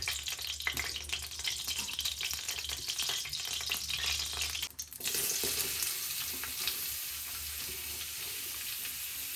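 Onions sizzle in a hot pan, with steady crackling and occasional stirring scrapes close by, then a brief dip before the frying hiss swells brighter and continues alone.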